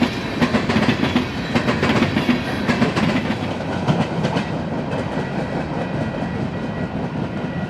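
A Canadian National freight train rolls through fresh powdery snow, its cars giving a loud, steady rumble with rhythmic clickety-clack over the rail joints, close by and continuous, with no voices.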